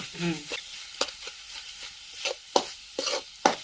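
Masala for dried shrimp sukat fries over a high wood-fire stove, with irregular bursts of spatula scraping and stirring over a soft sizzle.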